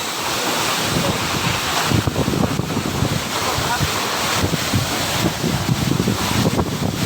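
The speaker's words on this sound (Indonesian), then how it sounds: "Airnya sangat deras ya guys" Rushing water of Curug Janji waterfall in the Toba Caldera area, a loud steady roar filling the whole clip with wind buffeting the microphone.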